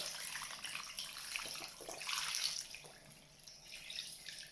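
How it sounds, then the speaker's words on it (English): Running water splashes steadily into a bowl over raw chicken, a soft continuous gush with no voices. "We want to cover the chicken in water."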